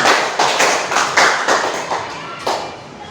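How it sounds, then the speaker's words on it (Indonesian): A class claps together in a short rhythmic run of about seven evenly spaced, fairly close beats that gradually ease off. "Tepuk tangan untuk kita semua"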